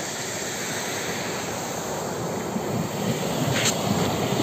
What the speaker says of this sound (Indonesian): Besar guys, ombaknya cukup besar guys